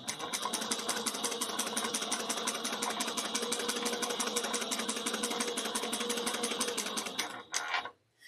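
Juki 5550 industrial sewing machine running at steady speed, a dense, even mechanical whir with rapid rhythmic needle ticks held for about seven seconds before stopping abruptly.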